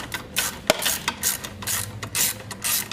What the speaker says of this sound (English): put your plug back in and tighten it up